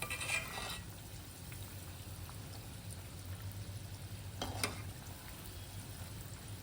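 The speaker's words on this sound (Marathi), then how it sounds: "आता दुसऱ्या दुसऱ्या साईडनी पण आपण त्यांना तळून घेऊया" Sabudana vada, crisp tapioca-pearl fritters, fry in hot oil and are turned to cook the other side. A quiet, steady sizzle runs throughout, broken by a couple of brief clinks or splashes.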